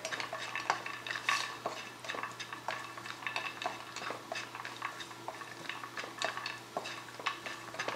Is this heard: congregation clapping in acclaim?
no